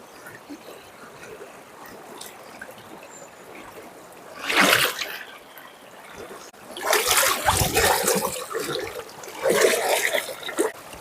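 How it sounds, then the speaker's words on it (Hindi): Fast, heavy flood water rushing over rocks near Chitrakoot, with a steady wash that swells into louder splashing surges up close. "आप लोग यहाँ देख सकते हैं बहाव बहुत ज़्यादा तेज़ है"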